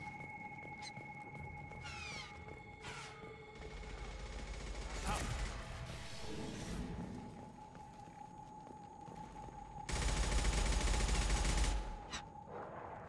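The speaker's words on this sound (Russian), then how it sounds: "Гарус, хватит по мне стрелять." Gunfire in the video game Mass Effect 2, a soldier firefight on max difficulty, with bursts of shots and loud heavy blasts under ongoing game noise and a voice speaking.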